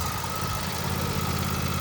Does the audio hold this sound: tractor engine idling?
yes